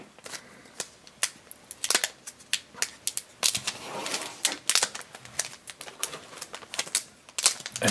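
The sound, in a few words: scissors cutting a card pack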